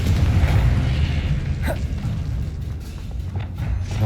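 A Confringo fire-blast spell erupts in Hogwarts Legacy as a heavy, rumbling boom with a brief crackling burst, loud and close, settling into low roaring energy.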